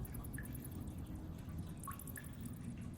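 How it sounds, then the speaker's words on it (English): Water drips onto a stone floor in a vast hidden room, a tabletop fantasy roleplaying ambience: a few sparse, distinct drops ring out over a steady low rumbling background hum, with no talking. "you hear water that drips along the floor"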